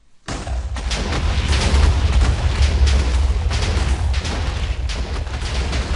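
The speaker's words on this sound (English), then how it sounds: "I think that is going to be a very, very big explosion." Minecraft TNT explosion in a desert survival game, a sudden loud blast followed by a long rolling, crackling roar of further detonations that stays dense and loud for several seconds.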